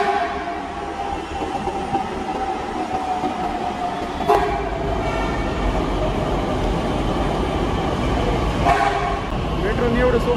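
A Pune metro train at a station rumbles steadily nearby, with two short horn toots, one midway and one near the end, over a constant rolling drone.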